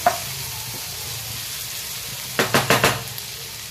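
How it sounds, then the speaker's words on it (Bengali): Green chilies, garlic and ginger fry in oil for a dried loitta fish bhujia, giving a constant close sizzle, then a quick run of four scraping stir strokes near the end. "তারপরে কাঁচা লঙ্কা আর ওই রসুন আদা সব দিয়ে দেবো। এটা এবার ভালো করে এরকম নাড়াচাড়া করবো, কিছুক্ষণ রাখবো।"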